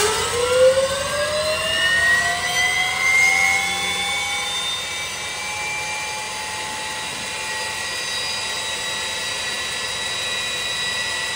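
A jet engine fitted in a Camaro cold-starts with a rising turbine whine that climbs steeply over the first few seconds, then holds as a loud, steady high-pitched roar throughout.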